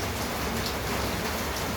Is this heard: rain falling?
yes